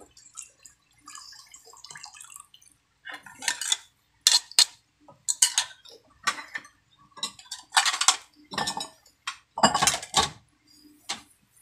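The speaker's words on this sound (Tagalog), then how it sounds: "I-mix natin siya. Mix. Haluin natin siyang maigi." Puto cheese batter is stirred in a bowl with a utensil, producing intermittent clinks, taps and wet scraping in irregular bursts, close and fairly faint against a quiet background.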